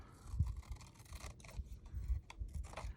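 Scissors cut paper for a tiny journal, close and quiet, with a string of soft, irregular snips and rustling slides of the paper.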